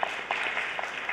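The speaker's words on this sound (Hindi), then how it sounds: "जोरदार तालियां हो जाए" Audience at a Delhi literature festival session applauds a sarangi player, a dense, even wash of many hands clapping steadily at moderate loudness with no voices over it.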